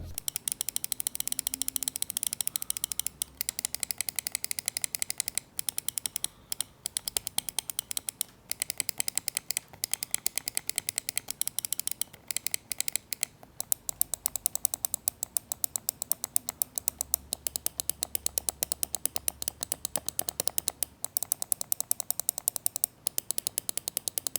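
Rapid, crisp button clicks from an ASUS ROG Harpe Ace Extreme gaming mouse repeat in dense, irregular bursts, close and fairly quiet, with no voices.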